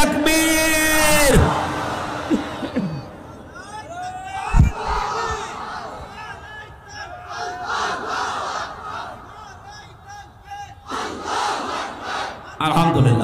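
A large rally crowd roars a takbir chant in unison, loud and sustained, then breaks into scattered shouts, yells and cheering that rise and fall, with a second surge of massed voices near the end.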